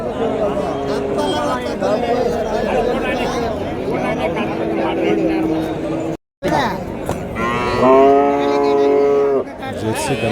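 Calves and cattle lowing at the Uthangarai livestock market, a drawn-out moo standing out near the end over steady crowd chatter and bargaining voices.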